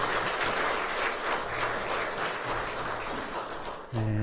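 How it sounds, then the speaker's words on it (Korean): A university chapel congregation gives encouraging, thankful applause after a hymn, dense sustained clapping at close range that cuts off abruptly just before a low tone sounds at the end. "우리 함께 격려의 박수, 감사의 박수"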